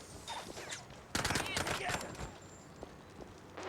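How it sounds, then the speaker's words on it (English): Gunfire in the video game MOUSE: P.I. For Hire, a burst of rapid shots that starts suddenly about a third of the way in, then sparser pops trailing off, with game music and a voice talking around it. "Can I not save it because there's people shooting at me?"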